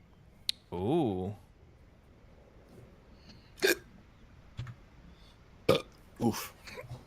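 A big creature in The Wandering Village lets out a loud, stretched burp with a warbling, rising-and-falling pitch near the start, followed by scattered short clicks and thumps from the game.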